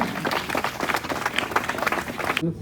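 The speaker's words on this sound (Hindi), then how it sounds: "एक बार जोरदार तालियां।" At a school Independence Day function, an audience breaks into vigorous applause, with many hands clapping in a dense, lively stream that continues almost to the end before cutting off.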